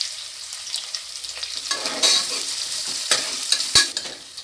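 Onions sauté in a hot pan while a spoon or spatula scrapes and stirs through them, a continuous close sizzle broken by a few sharp clanks against the pan, with no talking.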